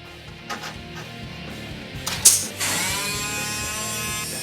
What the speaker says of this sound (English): it's a flanging tool. Basically what it does is it creates this lower level on the sheet metal panel